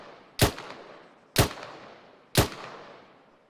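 Three sharp gunshots spaced about a second apart, each with a quick decaying tail, during ArmA 3 infantry training as an enemy is engaged and fire is returned; loud and close with no talking.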